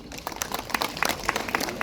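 Scattered, moderately loud clapping from an audience at a village baseball-themed festival and general assembly in Korea, thin and uneven rather than a full ovation, lasting under two seconds.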